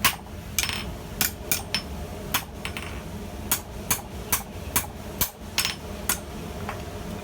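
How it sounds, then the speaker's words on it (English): A hammer strikes 52100 steel on an anvil while tongs are being forged, a dozen or so sharp ringing blows at an uneven pace, close and clear over steady workshop hum. "I'm trying to hammer."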